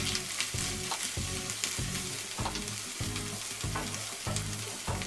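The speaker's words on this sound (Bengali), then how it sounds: "এবার 1/2 চা চামচ হলুদ গুঁড়া ও 1 চা চামচ গুঁড়া মরিচ দিয়ে আবারও ভেজে নিব" Turmeric and chili powder frying with onions in a pan for chicken curry make a dense, continuous sizzle, with a steady rhythmic scraping of a spatula stirring about twice a second.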